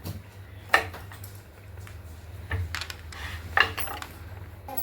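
A knife chops banana flower on a cutting board in a home kitchen, giving a few sharp, separate knocks spread over several seconds against a low steady hum.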